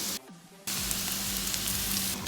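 Loud, steady sizzling of onions and Chinese sausage frying in hot oil in a pan, briefly quieter before surging back into continuous crackle.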